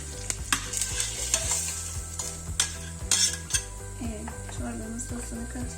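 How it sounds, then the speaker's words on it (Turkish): Dried mint and red pepper sizzling in a pan for a soup sauce, a soft frying hiss under repeated clinks and scrapes of a utensil stirring against the pan, fairly quiet and close. "Bir tatlı kaşığı kuru nane ve bir çay kaşığı kırmızı toz biberi çorbamın sosu için alıyorum tavama."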